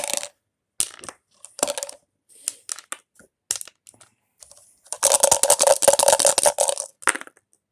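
Dice rolled during a board game playtest, a series of short hard clatters and taps followed by a longer, denser burst of rattling as the dice tumble and settle, close and fairly loud with no talk.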